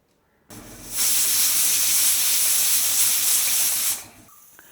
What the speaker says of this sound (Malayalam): അപ്പോൾ നമ്മുടെ സ്റ്റീം ചെയ്യാനുള്ള ഫിഷ് വെച്ചിട്ട് നമ്മൾ കുക്കർ അടച്ചു.